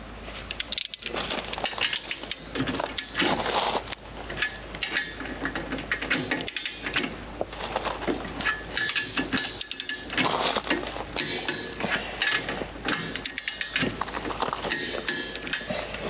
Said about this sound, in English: this one will be torqued according to the directions to 75 pounds